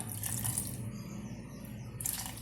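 A steady, quiet rush of water pouring continuously into poha dosa batter for grinding, briefly thinning in the middle before picking up again.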